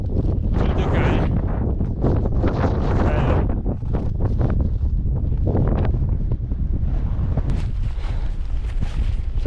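Strong, gusty wind on the Pizzo Alto summit in the Lagorai mountains roars continuously into the microphone, surging and easing in heavy buffeting waves.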